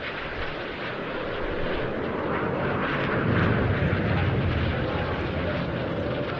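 Red Arrows jets fly a crossover at Bournemouth Air Festival airshow, producing a loud, continuous roaring rush that swells slightly midway as the jets pass, with faint talk underneath.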